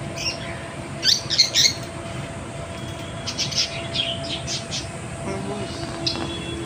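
Birds chirp in a park aviary in Kolkata, with bursts of bright tweets early on and scattered calls later over a steady background hum, no one speaking.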